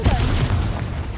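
A Confringo spell explosion in the Hogwarts Legacy video game gives a short, loud, dense boom with a rumbling low burst that fills the moment and fades slightly.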